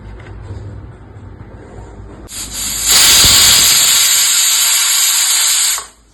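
A pressure cooker cooking fish releases steam with a loud, sustained high-pitched whistle and rushing hiss for about three seconds, then cuts off abruptly.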